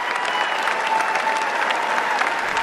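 Audience applause at a political talk, a steady dense clapping that fills the whole stretch, loud and close, with no break or fade.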